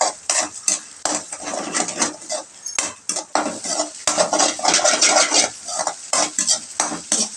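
Egg fried rice being stirred and tossed in a hot pan, close and loud, a busy sizzle broken by repeated scraping and clanking of a metal spoon against the pan.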